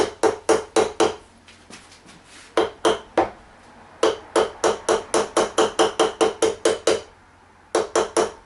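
Sharp metallic hammer blows drive a wheel bearing into a BSA B25 Starfire front wheel hub through a socket, falling in quick bursts of several strikes separated by short pauses, loud and close with no talking.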